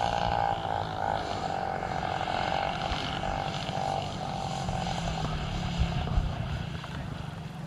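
A 35% scale RC Cessna 182 model airplane comes in to land at a flying event, its propeller engine droning steadily at close range with a slowly shifting pitch and a faint background hum.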